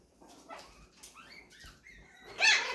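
Chihuahua puppies play together, giving short yips, whimpers and small barks scattered close by, ending in a louder yelp, with no one speaking.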